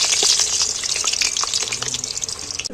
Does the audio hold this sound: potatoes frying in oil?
yes